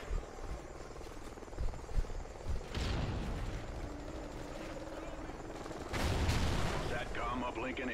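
Gunfire rattles through an online Call of Duty: Ghosts multiplayer match, bursts of shots over a constant rotor-like drone, with a player talking over the action.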